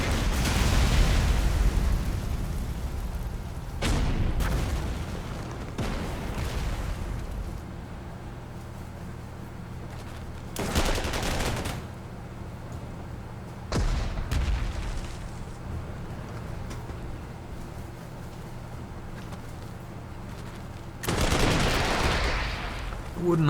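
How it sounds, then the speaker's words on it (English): Counter-battery artillery fire in the wargame Panzer Corps 2 lands as several heavy booms and explosive bursts spaced across a low, continuous rumble, with one loud blast at the start and another near the end. "These guys are taking counter battery fire."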